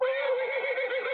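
A horse lets out a single loud, close whinny, a wavering, tonal neigh that holds steady for about a second.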